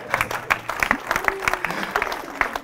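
A church congregation claps in a rhythmic, loud pattern of sharp, regular hand claps, with voices mixed in underneath.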